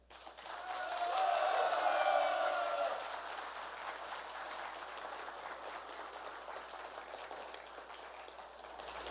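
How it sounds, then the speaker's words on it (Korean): A crowd at a Democratic Party joint campaign rally for Jeonju mayoral candidates applauds. The clapping swells early, then settles into a steady, rain-like patter that continues to the end. "박수를 오래 치시면 제 연설 시간이 짧아집니다"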